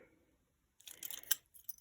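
A bunch of keys jangles close by after a moment of near silence, a quick burst of bright metallic clinking with one sharper clink and a brief final rattle, all quiet.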